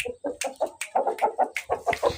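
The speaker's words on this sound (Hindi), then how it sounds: "ये इतना ना मतलब लड़ने वाला मुर्गा है" A fighting rooster gives a quick run of short, close clucks in a rapid, uneven rhythm, loud and clear with no voices over them.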